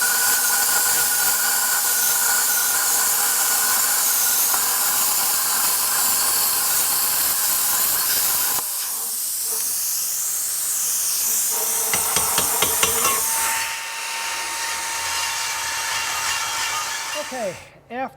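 Plasma cutter slicing a hole for an electric exhaust cutout in the X-pipe of a Ford Mustang GT500, a steady loud hiss for most of the run, then a shift to sputtering, crackling bursts and a higher whine near the end.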